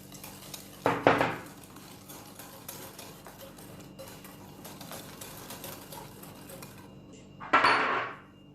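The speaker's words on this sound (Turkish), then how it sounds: "Öncelikle yumurtamızı ve şekerimizi çırpıyoruz." Quiet, steady whisking clatters as eggs and sugar are beaten in a bowl, with two louder bursts of metal scraping against the dish near the start and end.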